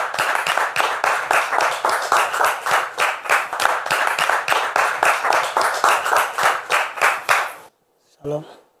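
A church congregation claps in rhythmic unison to welcome a guest, a loud, steady beat of hand claps lasting about seven seconds before stopping abruptly, followed by a short voice.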